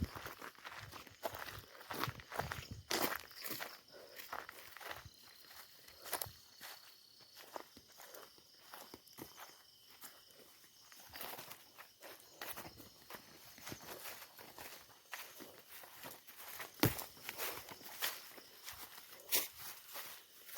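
Footsteps move through an abandoned building, faint irregular crunches and scuffs spread across the stretch, some steps slightly louder, with quiet background ambience and no speech.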